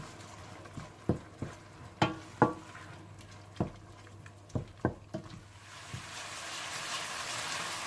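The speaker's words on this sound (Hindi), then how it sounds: "आप इसमें धनिया पाउडर, सुर्ख मिर्च पाउडर, हल्दी पाउडर और नमक डालकर अच्छी तरह से भून लें।" Coriander powder, red chili powder, turmeric and salt roasting in a pan as they are stirred, with a series of sharp scraping and clinking strokes against the pan over a soft, rising sizzle.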